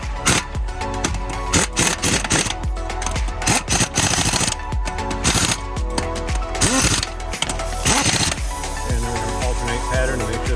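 Lug nuts being snugged onto a Mini Countryman wheel during a brake job, with a ratcheting tool clicking in quick repeated bursts and metallic mechanical rattles close by, and little talk.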